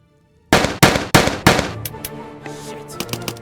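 Gunfire in the Soviet Soldier video game: four loud, sharp shots in quick succession open the burst, followed by a rapid string of quieter, echoing reports that trail off.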